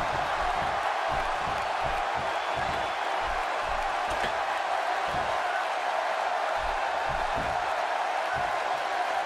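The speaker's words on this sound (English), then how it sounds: "by the sound of this crowd, I think they're getting what they wanted" A dense, steady arena crowd roar from the WWE 2K16 wrestling game during a Mark Henry match, loud and continuous with scattered thuds beneath it and no distinct cheers rising above.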